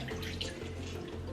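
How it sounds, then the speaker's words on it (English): Fried plantain slices being dipped into salted water in a kitchen, giving a soft, steady watery sloshing and dribbling close by, with a low hum underneath and no talking. "you're just going to dip that in your salted water"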